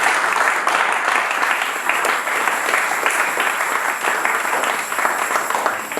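A church congregation claps and applauds during a French-language service, a dense, steady wash of many hands that holds loud and even from start to finish.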